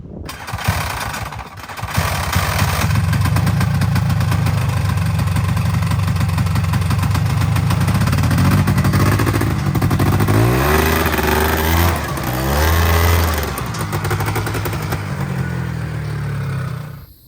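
A Polaris Trail Boss 350 ATV engine, long abandoned, sputtering to life and then running rough and loud up close, idling unevenly with several revs rising and falling.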